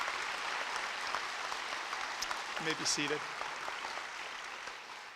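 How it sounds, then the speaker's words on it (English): Applause from the audience honouring graduating ESL students at an adult education graduation ceremony, broad and steady throughout, with a speaking voice briefly heard over it near the end. "If we could give them one more round of applause"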